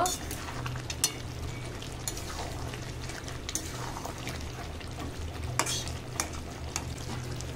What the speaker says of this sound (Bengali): ভেজে রাখা আলুগুলো দিয়ে দেব, ভালো করে নেড়ে দেব।